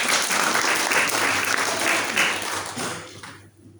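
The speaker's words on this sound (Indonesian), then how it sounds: "Tepuk tangan semuanya." A church congregation applauds at a Sunday Christmas-season service: full, loud clapping from many people that holds steady, then quickly fades away near the end.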